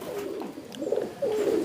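A tomprang high-flying pigeon coos close by in a short burst, soft low throaty rolls repeating over under two seconds with no voices.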